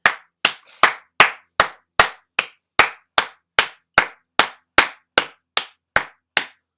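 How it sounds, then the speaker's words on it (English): Hands clap in a steady, even rhythm, about sixteen sharp, close, loud claps over roughly seven seconds, with no talking. "Just wanted to give a clap for that."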